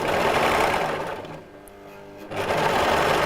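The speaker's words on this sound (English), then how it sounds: "So I want to overlock this way." An overlocker sewing machine runs with a steady, dense whir. It slows and softens partway through, then picks back up to full speed.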